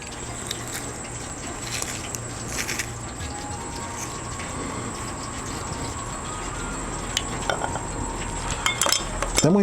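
Garlic and apple cider vinegar marinade stirred in a bowl for Korean spicy fried chicken, scattered clinks and scrapes of a utensil against the bowl over a steady background hum, growing busier toward the end.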